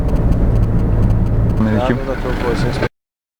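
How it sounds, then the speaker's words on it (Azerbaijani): A BMW Alpina B10 3.3 E39 drives into turns with a steady mid-range engine drone and road noise. Someone talks over it before the sound cuts off abruptly. "Belə pavorotlara girirsən BMW ilə."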